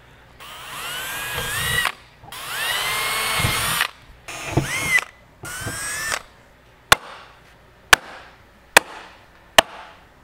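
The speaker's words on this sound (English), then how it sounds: "we're going to drill the other 2 holes and finish riveting these in place" A power drill boring holes for Camaro spoiler brackets, four whining bursts of a couple of seconds each, close and loud, followed by four sharp isolated snaps spaced about a second apart, likely riveting.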